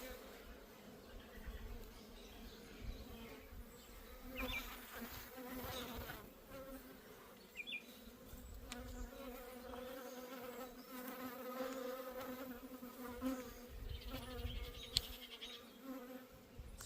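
Honeybees buzzing around a homemade hive built from trash while a frame is pulled out, a dense, continuous droning hum close by, with occasional nearer wingbeats passing and a few faint handling knocks.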